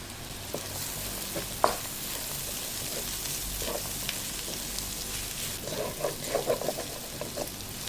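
Ground spices and pepper powder fry in a pan for a beef dish, giving a steady close sizzle with scattered crackles and a few louder stirring scrapes, no voices.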